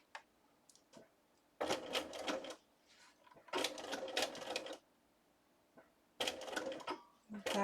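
A sewing machine stitches slowly through a paper doily with tulle in three short bursts of rapid mechanical clatter, separated by quiet pauses and a few small clicks.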